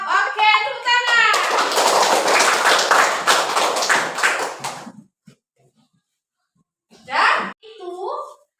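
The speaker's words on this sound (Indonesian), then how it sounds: "Oke, tepuk tangan." A classroom group of children claps together in a dense burst of hand claps lasting several seconds, close and loud, preceded by a voice and followed by silence and brief speech.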